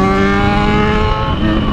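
A loud, steady motorcycle engine drone runs close by, its rough tone holding nearly constant with only a slight dip near the end.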